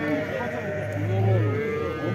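Young calves moo in a long, low drawn-out bellow at the Karakol livestock bazaar, close and loud, with market murmur around it.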